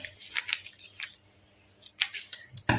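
Scissors cut a paper sewing pattern for a blouse in a series of close, crisp snips that come in short bursts separated by quiet pauses.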